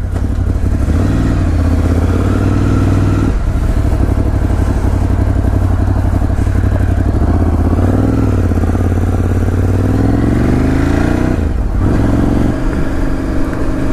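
A 2018 Ducati Scrambler 1100 Special runs loud and close for a long stretch, its engine throbbing steadily with rising revs, gear changes and brief dips as the bike rides on.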